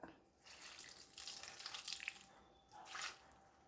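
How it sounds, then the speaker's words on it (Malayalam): Water runs and splashes into a pot of cut vegetables, a faint trickling pour in a couple of bursts with a brief pause between, heard alone at low level. "ഇനി വേണ്ടത് കുറച്ച് വെള്ളം ഒഴിച്ചു കൊടുക്കാം."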